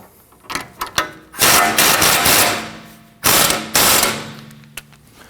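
A ratchet wrench tightens a nylon lock nut on a Honda Pilot outer tie rod: quick clicking strokes, then two longer bursts of loud, close ratcheting, each trailing off.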